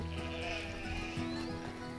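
Sheep bleating by a creek on a homestead, several overlapping wavering calls over a steady outdoor background, fairly close and continuous for the whole stretch.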